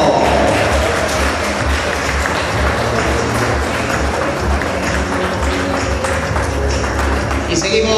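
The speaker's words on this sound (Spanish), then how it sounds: "Fuerte el aplauso." Audience applause at a seniors' parade, steady clapping from a crowd lasting throughout with a dense, continuous texture and some low background murmur.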